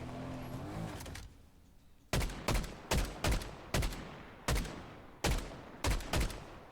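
Video game gunfire rings out in a series of sharp, loud shots in uneven bursts, about nine reports following a quieter opening stretch.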